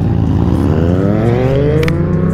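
A motorcycle engine revs upward steadily, its pitch climbing over a couple of seconds, loud and close with no voices.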